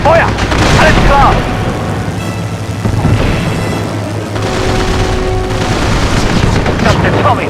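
Aircraft machine guns rattle in long, loud bursts during a World War II air battle over Dunkirk in Secret Weapons over Normandy, mixed with engine roar and explosive booms.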